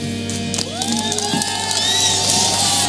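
Crowd cheering and whooping at a Fnatic vs Cloud9 esports match at DreamHack Open Summer 2017, a steady roar of the audience with scattered shouts that swells slightly toward the end.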